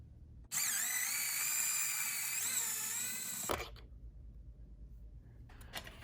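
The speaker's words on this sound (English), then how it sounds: "The last step in removing the fender is to remove 2 bolts underneath." A cordless driver with a T25 bit whines steadily for about three seconds, backing out a bolt under the fender of a 2020 BMW S1000RR motorcycle, then stops with a clunk; a brief light clink follows near the end.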